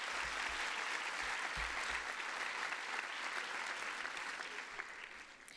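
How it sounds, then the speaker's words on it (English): Sustained audience applause at the Nelson Mandela Annual Lecture, a large seated crowd clapping steadily and fairly evenly, fading slightly toward the end. "Give yourselves a round of applause."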